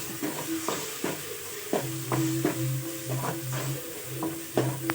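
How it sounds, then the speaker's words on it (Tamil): A spoon stirs and scrapes a pan while village-style fish kulambu masala with chili and turmeric powder sautés, giving rhythmic scraping strokes over a soft sizzle, close and quiet, with no talking. "இதுமாரி வதக்கி விட்டுனே இருந்தோம்னா போதும்."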